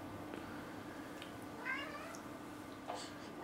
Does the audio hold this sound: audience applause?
no